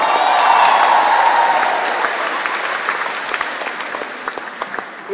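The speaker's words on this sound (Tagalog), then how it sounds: "Pumalakpak ka mga espesyal." An audience at a church gathering in Singapore applauds, a full, dense round of clapping that is loud at first and then thins out into scattered claps.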